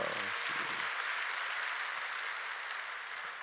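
A crowd claps steadily in a big room during a Friday night church service, the applause staying even throughout and tapering only slightly at the end.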